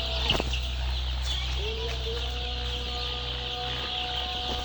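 Young Kazi Highland Brown chickens on a layer farm make faint clucks and short calls over a steady mechanical hum, with one brief sharp knock near the start.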